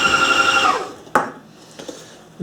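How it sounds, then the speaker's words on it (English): A small motorized sanding tool whirs loudly, then winds down and stops, followed by a few sharp knocks and clicks. "a good little sanding device there"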